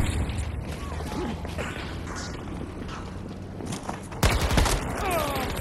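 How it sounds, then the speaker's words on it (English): Gunfire in Battlefield 2042 rattles amid busy game noise and faint voices, with a sharp, loud burst of shots late in the clip. "Trying to shoot that guy with this weapon at that range."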